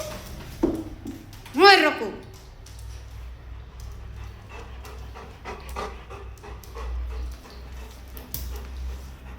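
Golden retriever panting and giving a short high whimper or yelp near the start, then continued soft breathing under a low steady background hum, with people talking nearby.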